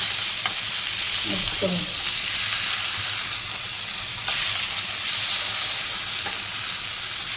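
A whole pomfret coated in semolina and green masala paste fries in a pan Konkani style, giving a steady, loud sizzle and crackle throughout, with a brief word spoken early on.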